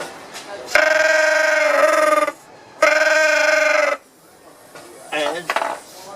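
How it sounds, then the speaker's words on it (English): A camel caller demonstrated at an agricultural show gives two long, loud, buzzing honks, each lasting over a second, followed by shorter warbling calls. "We have a camel caller."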